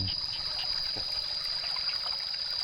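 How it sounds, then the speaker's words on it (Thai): A steady trickle of water flowing through a rice-field drainage outlet runs continuously, with a high constant insect-like whine over it. "น้ำไหล"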